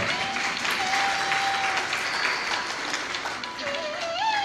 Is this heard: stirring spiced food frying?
no